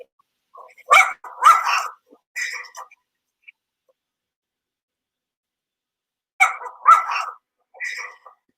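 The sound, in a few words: dogs barking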